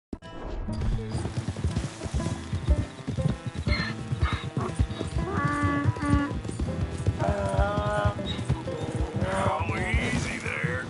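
A horse in a PS4 video game whinnies several times over rhythmic clip-clop hooves, with game music and sound underneath.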